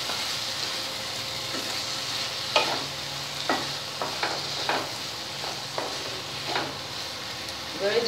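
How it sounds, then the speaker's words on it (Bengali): Potatoes and prawns fry in a pan of oil with a steady soft sizzle, while a spoon scrapes and stirs in repeated sharp strokes, close by and without talk. "এবারে যে ভাজা আলু আলু এবং চিংড়ি মাছটা দিয়ে দিচ্ছি,"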